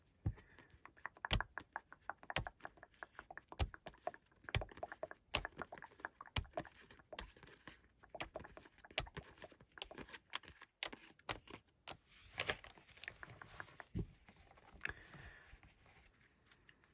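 Playing cards are shuffled by hand in a quiet ASMR setting, giving soft, crisp riffling and tapping clicks in irregular bursts, close and gentle, with no voice.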